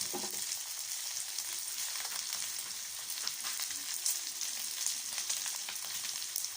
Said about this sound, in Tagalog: Ayan, nilagay yung atay. Ayan, ginisa.